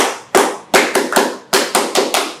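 A group does a rhythmic patterned clap at a youth church service in Bandung, Indonesia, with sharp, crisp strikes in uneven bursts: single claps, then quick pairs, close and loud.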